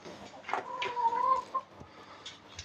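A young backyard rooster gives a short, rising, strained crow, near and fairly loud, with a few faint clucks around it.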